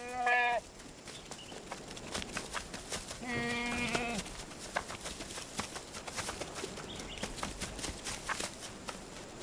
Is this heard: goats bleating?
yes